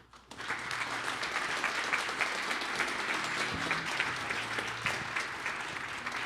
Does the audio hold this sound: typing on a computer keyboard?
no